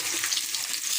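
Potatoes fry in a pan with a steady, close hiss and crackle of oil, continuous and even throughout.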